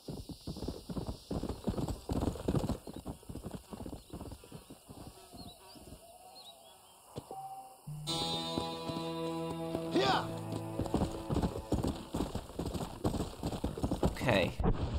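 Horse hooves clip-clop at a steady walking pace in the Western video game Red Dead Redemption, mixed with game ambience, birdsong and a brief whinny, with a voice speaking partway through.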